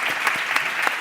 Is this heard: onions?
no